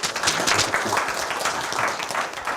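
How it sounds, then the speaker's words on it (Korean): A university math class applauding in a lecture room: steady, dense clapping from many students, fairly close and even throughout. "박수 한번 칩시다"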